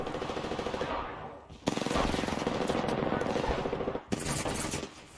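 Rapid automatic gunfire in the Apex Legends battle royale, loud sustained bursts with a short pause before the shooting resumes, then breaks off again, close and heavy.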